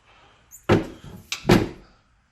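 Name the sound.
vehicle door being opened on a Yukon/Tahoe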